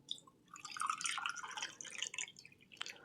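Water trickles and drips from a big cup into a small cup for the Achamana ritual, a light, close patter of splashes that swells and fades over a few seconds, with no voices.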